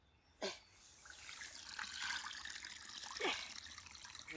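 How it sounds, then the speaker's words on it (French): Water falls and trickles in a soft continuous stream with a couple of splashy bursts, faint and close, with no talking. "J'attends que l'eau, elle tombe."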